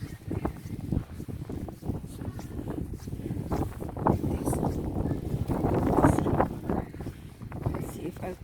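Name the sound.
strong blizzard wind blowing in Winnipeg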